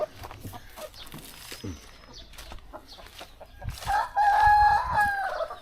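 Chickens cluck and a rooster crows on a small farm near Boracay in the Philippines, with scattered clucks building to a loud, drawn-out crow near the end while people talk quietly nearby.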